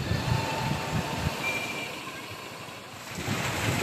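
Fast, turbulent river water rushes beneath a bridge, a steady broadband roar with no talk, close and continuous throughout.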